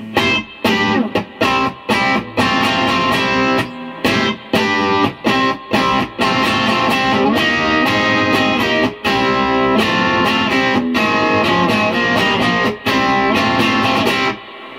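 An electric guitar plays through a Peavey Classic 30 amp with reverb and boosted mids, loud and dense with distorted, sustained chords broken by brief choppy stops.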